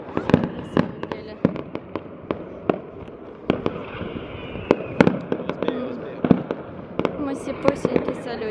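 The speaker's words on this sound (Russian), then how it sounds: "Ну, так себе салютик. Маленький." A small fireworks display outdoors sets off a string of sharp crackling pops and bangs at irregular intervals, moderately distant, with people talking over it.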